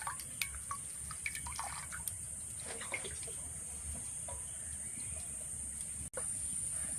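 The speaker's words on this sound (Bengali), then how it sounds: "আর দেখো এইভাবে ঠস ঠস করে এর জলটা পড়তিছে" Whey water drips from freshly made chhana curd held in a strainer for rasgulla, a steady trickle with scattered small drips, faint and close, without talk.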